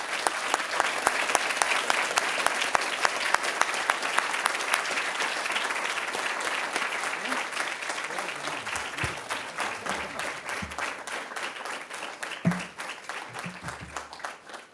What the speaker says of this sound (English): one more round of applause for Victor and Candy